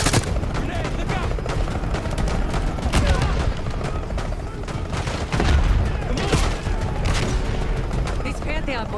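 Gunfire bursts and a grenade blast in Call of Duty Black Ops 6 combat, with dense loud shots and booms throughout and voices shouting under the firing.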